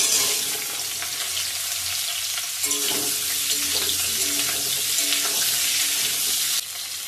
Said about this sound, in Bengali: কেটে রাখা আমগুলো দিয়ে দেব জল নেই।